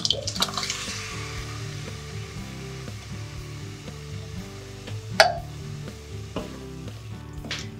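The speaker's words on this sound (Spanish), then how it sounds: "Cuando empiezan a desprender sus olores, incorporamos el tomate natural triturado." Crushed natural tomato is poured onto sautéed vegetables for an aubergine tower dish, and the pan sizzles continuously while a utensil knocks and scrapes against the pot, with one sharper clatter midway.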